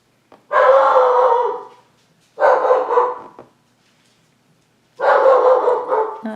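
A dog at home lets out three loud, drawn-out barks close by, each lasting about a second, with short silent gaps between them.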